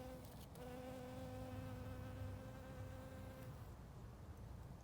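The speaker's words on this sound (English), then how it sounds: "is a bee right now." A bee buzzes around oxalis flowers outdoors, its faint, continuous humming drone close to the microphone with small changes in pitch as it moves, with no voices.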